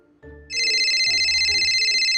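A phone ringtone starts loud and steady after a brief low background murmur, a bright repeating electronic melody announcing an incoming call inside a home, continuing without pause.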